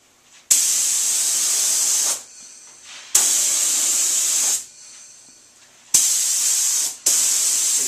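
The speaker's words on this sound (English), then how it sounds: "going to spray the outer frame now. I like to use a cup gun rather than a brush" Cup spray gun spraying flat black paint onto the outer frame of a black and mahogany frame: three loud, steady hissing bursts of a couple of seconds each, separated by short pauses with a faint residual hiss, close and with no talk.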